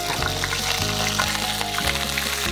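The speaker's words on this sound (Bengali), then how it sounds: "পেঁয়াজটা একটু ভাজা ভাজা হলে এটা কি দেওয়া হবে?" Onions fry in hot oil for Mymensingh-style chicken biryani, giving a close, continuous sizzle over a low humming drone that holds steady throughout.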